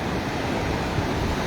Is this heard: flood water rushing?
yes